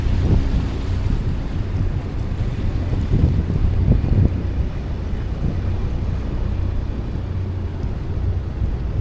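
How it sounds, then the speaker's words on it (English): Wind rushes over open water aboard a boat that has just left a lock, a steady roaring buffet against the mic with low rumble and no talk. "So it's a bit windy out here."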